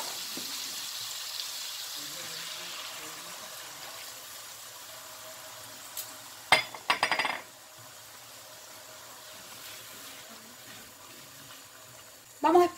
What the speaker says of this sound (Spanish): Vamos a poner nuestro vino seco.